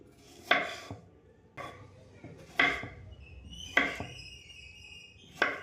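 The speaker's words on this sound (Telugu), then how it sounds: "దీన్ని ఇలా పీసెస్గా కట్ చేసుకోవాలి" Strawberries being cut into pieces on a board, with a few separate knife chops landing about a second apart, close and moderately loud with quiet gaps in between.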